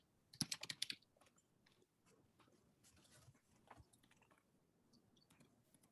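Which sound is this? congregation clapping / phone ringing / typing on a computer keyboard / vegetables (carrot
typing on a computer keyboard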